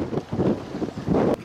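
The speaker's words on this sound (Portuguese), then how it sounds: "É o vento." Wind at the riverside village of Porto da Palha on the Tagus, a low, rushing, gusting roar buffeting the microphone, with no voices.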